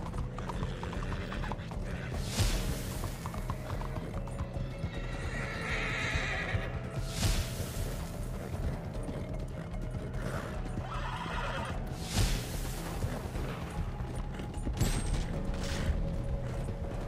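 Horse neighs and whinnies over continuous clip-clop of hooves in the video game Red Dead Redemption 2, with creaking tack and mechanical rattles, several loud whinnies spread across a long galloping stretch.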